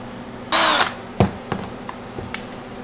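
A power drill whirs in one short burst, drilling into frozen crushed pineapple, followed by a few knocks and clicks.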